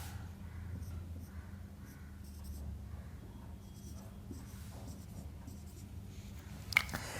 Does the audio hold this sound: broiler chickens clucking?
no